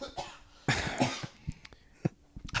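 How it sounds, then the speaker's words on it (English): A person coughs in a short, close fit of several hacking bursts, with a throat-clearing rasp between them and brief pauses. "Just coughing."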